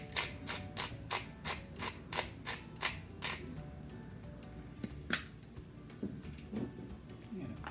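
A pepper mill grinds pepper medley in a row of about ten rapid ratcheting cranks, close and crisp, followed by a few isolated clicks against quiet kitchen background.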